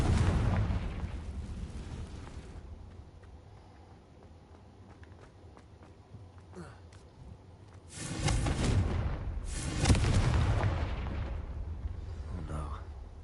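A Confringo blasting spell explodes in Hogwarts Legacy: after a quieter stretch with a shouted voice, two loud, broad blasts burst out close together near the end, followed by a lingering rumble.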